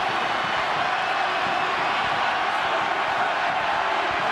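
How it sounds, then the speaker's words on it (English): A large rugby crowd at Stadium Taranaki in New Plymouth, New Zealand, roaring steadily through an Ireland versus USA match, a dense, loud, continuous wash of voices. "The crowd getting vocal here."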